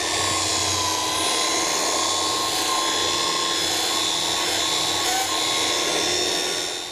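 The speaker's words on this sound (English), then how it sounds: "I've got it hooked into Alpha's HEPA vacuum, which does a great job of capturing dust that's being generated by" Dry polishing of a Quadra Fire cube with a polishing pad, hooked to a HEPA dust-capturing vacuum; a loud, continuous high whine and rushing airflow hold steady throughout without speech.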